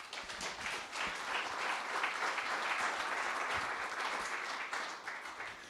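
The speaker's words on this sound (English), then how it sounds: "Please give Dale a round of applause." Steady broadband applause from a conference keynote audience fills the room, sustained and even with no pauses, dense clapping from many hands at moderate distance.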